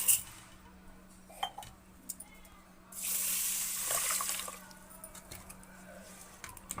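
Running water is poured over rice to wash it, splashing steadily for a couple of seconds in a kitchen, with scattered clinks and knocks of a pot before and after.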